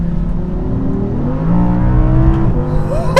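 An Audi R8 V10+ supercar's engine pulls hard under acceleration, a loud continuous rising drone with a tonal whine that climbs in pitch, heard from inside the car.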